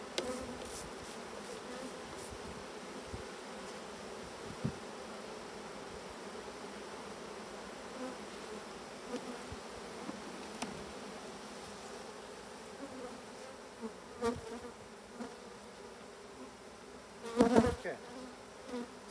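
Honey bees drone in a continuous, dense buzz from an opened hive during an inspection, steady and close, with a few soft knocks and rustles of frames and boxes.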